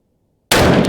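A single sharp, loud 6.5 Grendel rifle shot fired from reformed 7.62x39 brass cases with a 115 grain bullet, bursting abruptly out of total silence and ringing briefly afterward.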